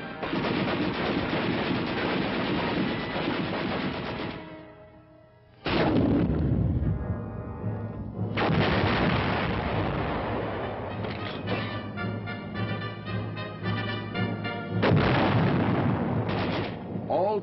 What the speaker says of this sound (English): A limited number of actual weapons which have been modified to fire blank ammunition